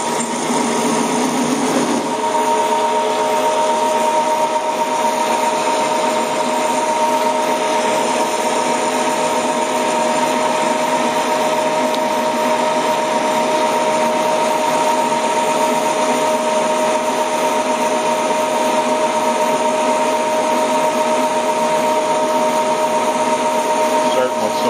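A metal lathe turns down a large steel shaft for stub axles in a workshop, giving a steady, loud high-pitched whine that runs unbroken throughout.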